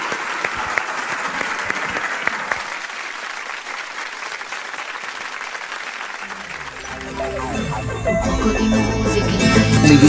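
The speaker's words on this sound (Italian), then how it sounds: "Un applauso!" An audience bursts into sustained applause at an Italian television variety show, many hands clapping loudly for several seconds before music starts up underneath.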